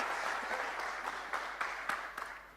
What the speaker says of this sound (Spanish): Les pido un aplauso también para ellos